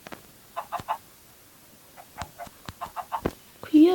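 Hens give short, nearby clucks in small clustered bursts separated by quiet gaps, with a person's voice coming in right at the end.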